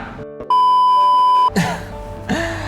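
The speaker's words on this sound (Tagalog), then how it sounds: "Nag-alarm." An alarm gives one long, loud, pure electronic beep lasting about a second, followed by a short burst of other noise and a faint voice.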